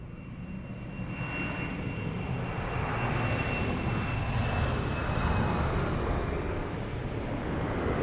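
Airliner jet engines roaring at takeoff at Lisbon Airport, a loud, steady broadband rumble with a thin high whine that holds for the full stretch, swelling slightly midway, with no voices.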